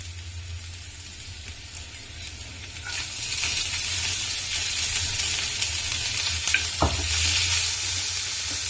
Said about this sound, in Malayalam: ബ്രോക്കോളി ഇട്ട് ഇളക്കുക.